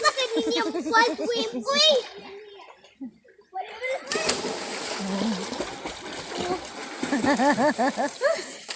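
Children splash and swim in spring water outdoors, with bursts of splashing under lively kids' chatter, calls and some laughter throughout.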